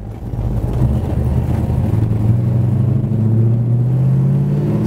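A 1969 Plymouth Road Runner pulls hard through its gears, a loud, steady engine rumble with tones climbing as it speeds up, heard alone without voices.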